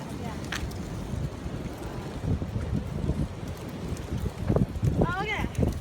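Wind gusts outdoors at a church, a rough, rumbling roar buffeting the microphone, with a brief voice near the end.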